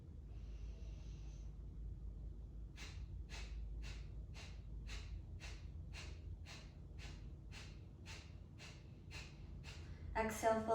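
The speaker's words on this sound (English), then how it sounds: "begin with Kapalabhati breathing 15 times" Kapalabhati breathwork: about fifteen rapid, forceful nasal exhalations in an even quick rhythm, close and clear, after a brief quiet breath at the start.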